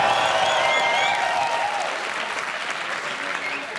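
A crowd at a Nordic startup awards event applauds and cheers, dense clapping with whistles and shouts up front that gradually thins and softens over a few seconds.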